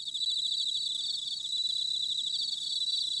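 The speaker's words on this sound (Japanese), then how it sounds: "スズムシ、マツムシ、コオロギ、他にもどっさりいるからね。" Bell crickets, pine crickets and other crickets trill together at an insect concert in a Doraemon cartoon, a dense, steady high-pitched chirring that carries on continuously and fairly loud without any talk.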